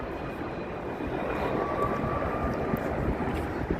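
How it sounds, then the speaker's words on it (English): An airplane drones overhead near Theodore Roosevelt Island, its steady roar blended with road traffic noise and growing slightly louder partway through. "There's a lot of traffic behind us and lots of airplanes above us."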